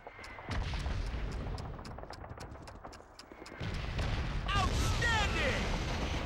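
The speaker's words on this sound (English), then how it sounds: "That had better have been another grenade." Grenade explosions and gunfire in the video game Call of Duty 2 Big Red One: a steady rapid crackle of shots, then heavy booming blasts rolling under a loud battlefield, with shouts and talk in the mix.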